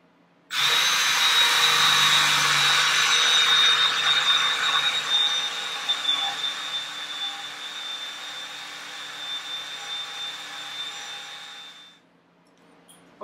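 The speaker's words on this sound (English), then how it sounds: "all we have to do is drill this." A power drill boring mortises in a wooden stretcher starts abruptly and whines steadily at close range for about eleven seconds, slowing slightly before cutting off.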